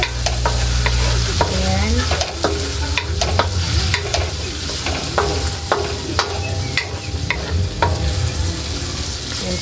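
Tomatoes being stirred in a hot pan for a sardine sauté, a steady loud sizzle with repeated sharp scraping taps of the utensil against the pan, and one brief spoken word.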